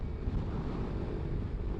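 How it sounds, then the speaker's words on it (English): Low, rumbling wind buffets the microphone in a continuous roar beside a Kawasaki Ninja 250R motorcycle, with no voices, steady throughout. "ooh, it is windy."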